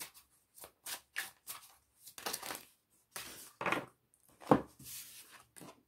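Oracle card deck shuffled by hand in a string of short, crisp riffling bursts with brief pauses between, fairly close and alone.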